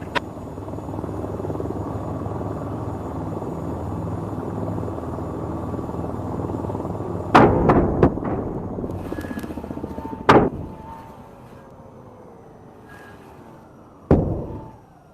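A helicopter in a VR flight game hovers with a continuous loud rotor drone, then a few sharp impact-like bursts break in as the engine sound fades and winds down.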